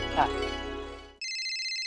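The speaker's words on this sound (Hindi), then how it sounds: "दया का फोन, दया एकदम सही टाइम पे फोन किया है" A phone rings with a bright, steady electronic ringtone that starts abruptly and holds clearly, right after a brief burst of speech.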